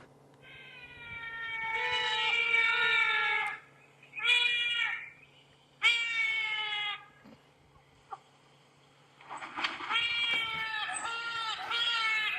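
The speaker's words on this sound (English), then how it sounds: "This is not a child calling, it is the bird." A wild bird on a safari morning in the Sabi Sand reserve gives a mournful, wailing call much like a crying child, in several drawn-out cries separated by pauses, clear and fairly close.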